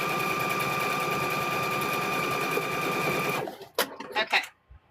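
A sewing machine runs steadily and close while stitching quilt squares, a fast continuous whir lasting several seconds before it stops, followed by a few clicks and thumps.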